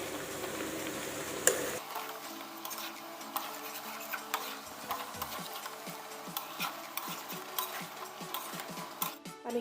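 A spoon stirs local chicken curry in a pan, making soft scraping and light sizzling sounds with small repeated strokes, faint and close, after a brief louder start.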